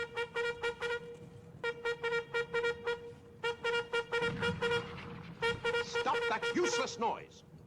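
A bugle played in the Roblox game Guts and Blackpowder sounds a bright, rhythmic run of repeated short notes in regular bursts, loud and close, with a voice speaking over the final seconds.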